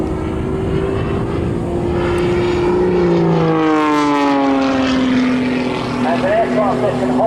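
A jet-powered Pitts aerobatic biplane performs rolls and a steep pull-through at an airshow, its engine tone droning loud and steady and sweeping in pitch as it passes, with a commentator talking over it.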